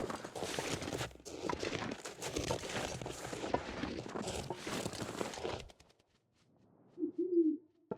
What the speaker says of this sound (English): Just an owl.